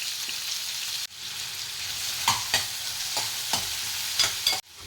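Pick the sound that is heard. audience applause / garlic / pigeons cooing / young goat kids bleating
garlic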